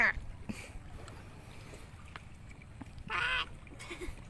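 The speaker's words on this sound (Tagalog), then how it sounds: "Ayun na naman yung ibon no." Loud honking bird calls near a fishing spot beside water, a sharp call at the start and a longer one later, over outdoor background noise.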